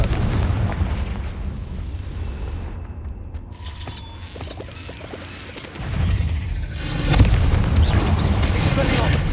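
Blasting spell explosions in the Hogwarts Legacy video game on PS5, heavy booming bursts and crashes in a busy combat mix, loud and close, with a spoken voice among the game sounds.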